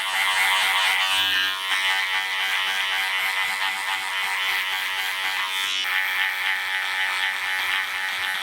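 Electric hair clippers buzz steadily up close while cutting a skin fade, a constant high motor drone whose pitch shifts slightly as the blade moves through the hair.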